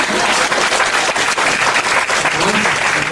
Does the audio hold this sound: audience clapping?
yes